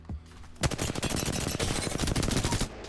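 Sustained automatic hip-fire from a slide in Apex Legends, a fast, even rattle of loud close shots running for over two seconds with no talk over it.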